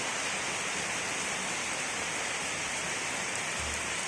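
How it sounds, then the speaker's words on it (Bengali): Hard rain falls without pause near a pond-side temple, a thick, constant roar of drops hitting surfaces, close and loud, with a faint low rumble near the end. "সুন্দর বৃষ্টি হচ্ছে"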